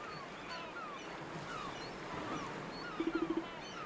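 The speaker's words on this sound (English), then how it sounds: "All you can hear is the gentle sound of crashing waves." Gentle waves wash onto a beach in the Ys VIII: Lacrimosa of Dana video game, a soft continuous surf that stays low throughout, with a short rapid run of faint ticks near the end.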